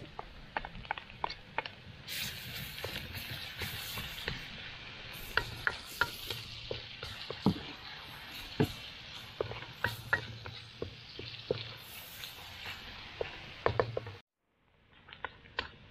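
Onion sautés in a pan for butter garlic shrimp with salted egg, a close steady sizzle broken by frequent sharp spatula scrapes and taps, fairly quiet overall, ending abruptly in near silence.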